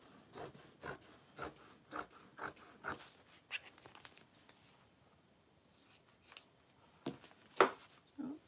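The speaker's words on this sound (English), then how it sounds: "So I'm gonna cut two out of my exterior vinyl because it's thinner." Scissors cut through thin exterior vinyl for a tote bag, giving a run of about eight close, evenly spaced snips followed by a quieter pause and a few sharper cuts near the end.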